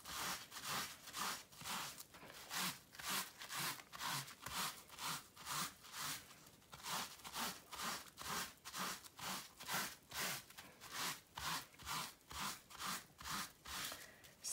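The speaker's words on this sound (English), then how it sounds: "Now let's just try rubbing with our J cloth." A soaked J cloth rubbed back and forth over wet felt during wet felting, producing a rapid, regular series of swishing strokes, close and fairly quiet, continuing steadily throughout.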